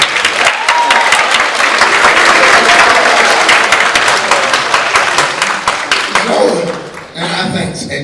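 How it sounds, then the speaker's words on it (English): A workshop audience at a jazz session breaks into a loud round of applause, dense clapping with some chuckles that tapers off near the end as a voice resumes. "Give a round of applause."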